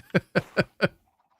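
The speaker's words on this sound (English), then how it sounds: "Just hear the sound of the chicken getting hit by an egg." Minecraft chicken hit by a thrown egg in the video game, giving four quick, evenly spaced clucking squawks close up, then near silence.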